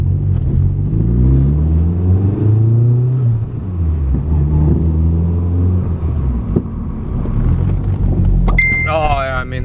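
A Nissan B13 Sentra revs hard under acceleration, then drops off as the newly fitted big brakes are applied firmly, with engine rumble throughout and a short squeal near the end. Loud and close, from inside the car.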